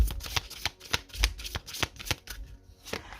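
Oracle cards being shuffled by hand, a run of crisp riffling flicks and soft slaps in an irregular rhythm, close and moderately loud, with no talking.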